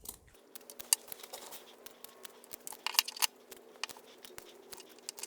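Scissors trim the seam of a sewn fabric Christmas stocking, cutting up to the stitching: a run of quiet, close snips and crisp cuts at an uneven pace, with no voices.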